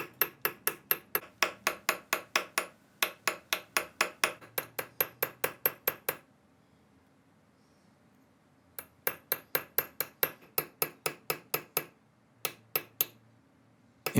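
Chasing punch struck by a hammer into metal for engraving, a rapid series of crisp ringing metallic taps in steady rhythm, broken by a few pauses, close and clear.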